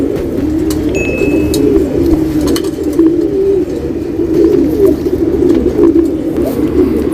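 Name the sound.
white-eye bird calling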